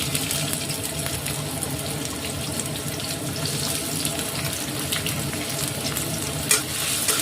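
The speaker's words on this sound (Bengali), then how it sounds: "পেঁয়াজকে লাল করে ভেজে নেব।" Onions fry in a generous amount of oil for aloo paratha, producing a steady, even hiss and sizzle throughout with one small clatter near the end.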